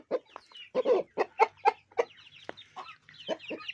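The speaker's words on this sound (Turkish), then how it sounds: "Evet diğer tavuklarımız da geliyor." Chickens cluck close by in a series of short, irregular calls, several birds chattering over a quiet background.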